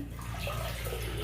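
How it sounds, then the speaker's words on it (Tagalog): Toilet flushing in a budget hotel bathroom in Binondo, a steady rush of water that carries on for the whole moment, close and fairly quiet, with no talk over it. "So, nagpa-flush naman."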